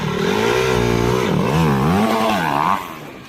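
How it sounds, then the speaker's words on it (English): A motorcycle engine revs suddenly and hard as the throttle is whacked open, a loud, close roar whose pitch swings up and down before dropping off at the end. "I'll go ahead and pop up a video of what a whiskey throttle looks like."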